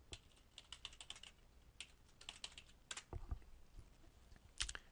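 Fingers type a search on a computer keyboard, sounding as quiet, irregular bursts of clicking keystrokes with short pauses between them, close by with no voices.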